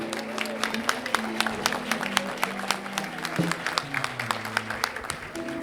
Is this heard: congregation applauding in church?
yes